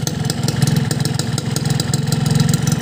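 A cold two-stroke engine running Idemitsu IRG 3 2T oil idles nearby in a rapid, uneven, pulsing putter that continues steadily throughout.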